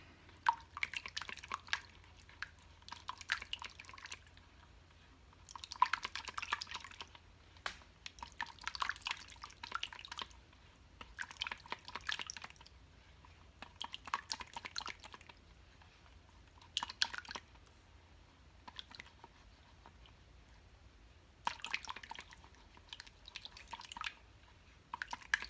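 Crab and corn fritter batter being stirred in a bowl, giving soft wet squishing and dripping sounds in irregular bursts, close and fairly quiet, with no talk.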